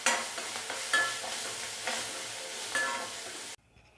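Onions, curry leaves, coriander and green chili sautéing in a pan, with steady sizzling and frying plus repeated stirring scrapes at a fairly even rhythm, close up and alone, stopping abruptly near the end.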